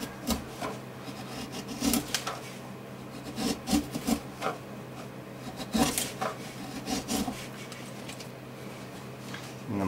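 A hand chisel shaves a wooden acoustic guitar back brace, making repeated scraping, rasping strokes in an uneven rhythm, close up and moderately loud with no speech.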